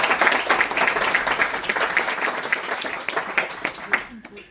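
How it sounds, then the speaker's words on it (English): Audience applause after a film pitch, a dense wash of many hands clapping at steady loudness that thins and fades out near the end. "Once again, applause to her."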